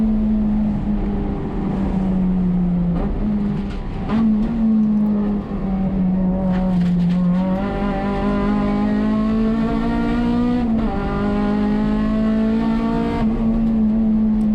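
A touring car races at Sonoma Raceway with its engine droning loudly from inside the cabin, pitch rising and dipping as it accelerates and lifts through corners.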